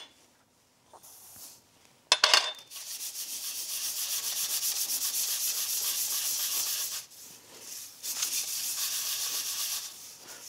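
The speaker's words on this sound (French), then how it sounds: "Nous allons mélanger les graines de sésame." Beef being mixed with sesame seeds for bite-sized beef morsels makes a close, rough rubbing and scraping sound in long continuous strokes, with a short clatter of utensil against bowl near the start and brief pauses between strokes.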